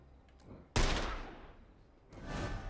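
A single gunshot in The Lamplighters League turn-based tactical game lands as a sharp, loud crack followed by a decaying rumble, and then a second swell of impact noise follows near the end.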